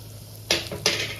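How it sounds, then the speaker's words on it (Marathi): Cumin, sesame and flax seeds dry roasting in a pan on low heat for a curry leaf chutney, heard as two short, close bursts of rustling and scraping as the seeds are stirred against the metal. "आता हे एकच मिनिट भाजून घ्यायचं"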